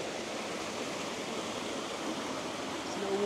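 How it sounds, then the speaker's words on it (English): A small waterfall beneath a bridge in Wales rushes with a constant, dense roar of falling water, steady and fairly close, with no voices over it. "there's a little waterfall there"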